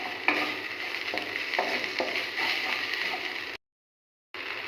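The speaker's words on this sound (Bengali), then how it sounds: "এবার হলুদ গুঁড়োটা দিয়ে খুব ভালোভাবে মিক্স করে নেব।" Turmeric powder stirred into a frying spice mixture in a pan, giving a continuous close sizzle with soft repeated scraping strokes, then a brief gap of silence near the end.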